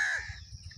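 A crow gives a single short, harsh caw close by. It fades quickly into quiet rustling background noise.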